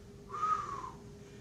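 A single low whistle imitated by a voice reading a story aloud, one short rising-and-falling tone lasting under a second, heard close and clear over a quiet background.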